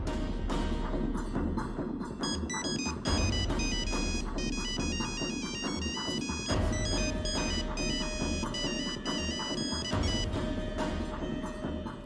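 A telephone ringtone plays a bright, repeating electronic melody, fairly quiet but continuous for about twelve seconds, with a steady rhythmic pattern and no talking.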